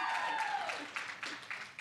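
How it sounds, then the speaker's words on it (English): At a basketball hall of fame induction ceremony, a crowd claps and cheers, a faint, distant patter of applause that fades over under two seconds, with a voice rising briefly at the start. "One more cheer."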